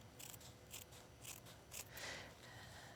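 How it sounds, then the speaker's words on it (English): Scissors cut T-shirt fabric along a stitch line, a series of five or six soft, crisp snips spaced about half a second apart, close but quiet with no talking. "Now I take my scissors and I'm going to cut right down the center of that stitch line"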